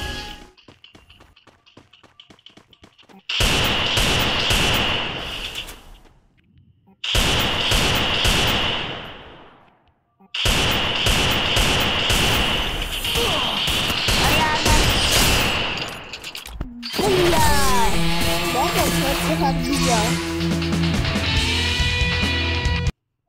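Rapid bursts of automatic gunfire from the Free Fire battle royale game, loud and continuous in several long volleys separated by short pauses, with music and game effects underneath toward the end.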